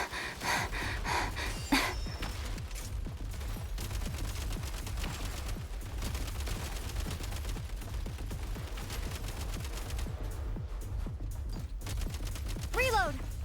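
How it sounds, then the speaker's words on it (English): Rapid bursts of gunfire from a player's main gun in a video game crackle continuously and close, with heavy breathing and voices mixed in and a brief swooping effect near the end. "Okay, I need to use my main gun."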